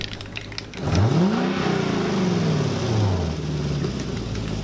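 A Honda Civic fitted with a cheap exhaust mod revs up from idle. The engine note swells in one loud rise and falls back, close by.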